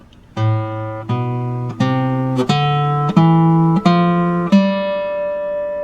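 Eight single guitar notes of the A natural minor scale plucked one after another in a steady, slow ascending run, each ringing clearly until the next.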